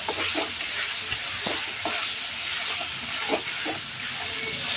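Spices sautéing in a pan for pasta, a busy bright sizzle with repeated spatula scrapes and stirs throughout, close and steady.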